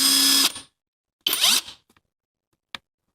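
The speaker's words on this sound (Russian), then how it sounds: "Давайте вот это вот, допустим, этот болт и хаммером пробуем." A LUDYVI BL800 cordless brushless impact wrench works on a rusty bolt in two loud, close bursts of roughly half a second and a third of a second, with a brief tick near the end.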